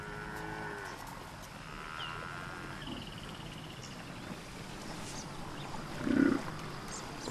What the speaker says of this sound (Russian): Шлепающие по воде буйволы кажутся заманчивой добычей.